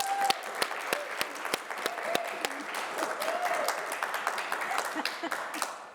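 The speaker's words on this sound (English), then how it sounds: "that's the first time we've gotten applause before we've done the show" Audience applause before a college health and human services show begins: many hands clapping steadily, with a few sharp individual claps standing out, moderately distant.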